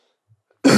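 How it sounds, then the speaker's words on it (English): A sick man gives a single sharp, loud cough close to the microphone right after a moment of near silence. "See here, I'm sick. I got to cough 1 second."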